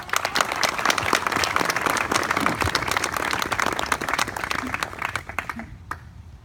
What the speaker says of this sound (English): Let's give him a nice round of applause